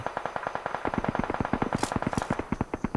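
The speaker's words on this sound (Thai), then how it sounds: "ยิงได้ ยิงไปเรื่อยๆ" Rapid automatic gunfire in the mobile battle royale game PUBG Mobile on the Livik map: a fast, steady stream of sharp shots over three seconds, loud and close, with a couple of brighter bursts partway through.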